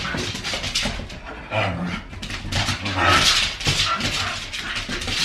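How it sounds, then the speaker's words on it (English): Several dogs playing indoors in a kitchen, giving yips, whimpers and short barks in bursts across the stretch, fairly close and lively, with household noise around them. "Right in the middle of filming, my dogs start playing."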